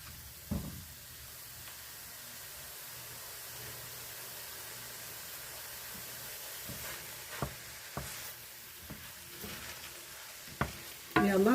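Ground beef and vegetables cooking in a pan for shepherd's pie, a low steady sizzle under scattered spoon scrapes and knocks, ending with a louder clatter.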